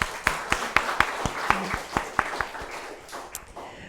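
Church congregation clapping in encouragement during a Sunday service, a sparse scattering of individual hand claps at a steady, uneven rhythm that thins out and fades toward the end.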